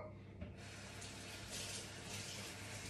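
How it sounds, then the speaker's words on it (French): Hands washed under a running kitchen tap: a steady close stream of water splashing into the sink after a brief knock, continuing evenly with no talk. "Je vais me laver les mains."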